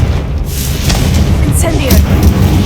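A Confringo fire-blast spell erupts in Hogwarts Legacy, a dense, continuous roaring blast with deep rumble that fills the whole moment at high volume, with faint crackling bursts riding on top.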